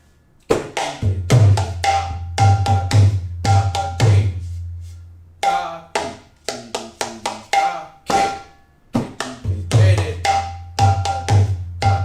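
Rhythmic mridangam strokes in quick patterns from a lesson, sharp slaps mixed with deep resonant booms, played close and loud with short pauses between phrases.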